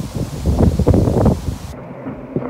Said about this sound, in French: si le vent voulait se calmer